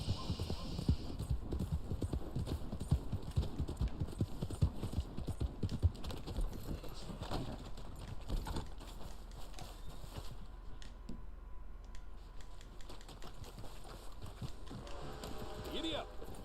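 Horse hooves clip-clop at a steady riding gait in the video game Red Dead Online, a dense rhythmic patter under a low hum that thins out after about eight seconds, with a voice speaking over it.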